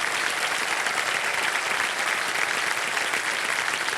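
A studio audience on a quiz show breaks into loud, continuous applause, dense even clapping that holds steady throughout with no talking.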